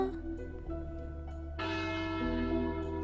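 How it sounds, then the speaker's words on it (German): Church bells peal from a bell tower in a video game, with steady metallic strikes and long overlapping resonant tones that swell louder midway, close and without talk. "Die Kirchenglocken schwingen zuerst in Richtung Stuhl."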